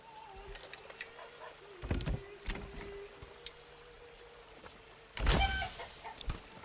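Chickens clucking around a chicken coop in the medieval village game Manor Lords, a few soft clucks and calls over quiet ambient game sound, with brief louder bursts of other activity.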